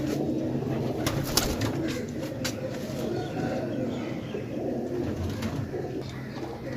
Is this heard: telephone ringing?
no